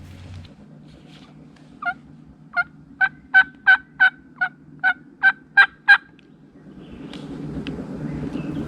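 A wild turkey gobbler in Alabama sounds off in a rapid rattling run of about nine sharp notes over steady wind noise, clear and fairly close.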